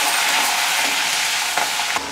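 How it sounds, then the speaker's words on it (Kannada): Green chilies hit hot oil in a tempering for tomato chutney, producing a loud, close, continuous sizzle with a brief crackle near the end, no talking. "ಹಸಿಮೆಣಸಿನ್ಕಾಯಿ ಹಾಕ್ತಾ ಇದ್ದೀನಿ."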